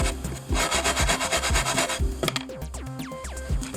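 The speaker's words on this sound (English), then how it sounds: "just take the sandpaper and go up against that nail and clean it up" Sandpaper is rubbed rhythmically against a bulge on a polycarbonate bending brake, with close, rasping back-and-forth strokes at a steady pace and no voice.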